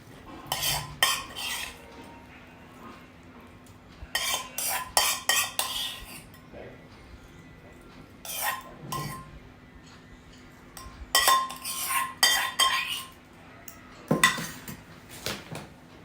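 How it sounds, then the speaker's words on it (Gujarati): Hot tempering poured over semolina dhokla, heard mostly as clinks and scrapes of a metal pan and spoon in bursts between quiet stretches, with only a faint sizzle and no talking. "હવે આ તૈયાર કરેલો વઘાર જે છે એ આપણે ઢોકળા પર રેડી દેવાનો છે."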